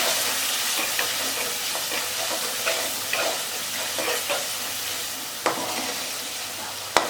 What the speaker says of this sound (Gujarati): ગરમ મસાલો તમે કોઈ પણ ઉમેરી શકો છો। હવે હલાવી લઈએ।